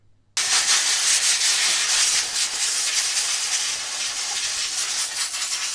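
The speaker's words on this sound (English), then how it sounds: "I'm just going to get all this mud and everything off of these, blow it off" Compressed air blowing mud and dirt off vehicle brake shoe parts, a loud, steady, close hiss starting abruptly and continuing without a break.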